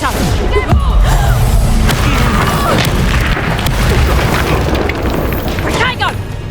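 A loud, dense magical blast from the Reducto spell in the video game Hogwarts Legacy, a sustained booming explosion with crashing debris and a voice shouting over it.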